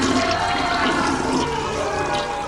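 A toilet flushes loudly and close by, a continuous rushing gurgle of water that carries on throughout.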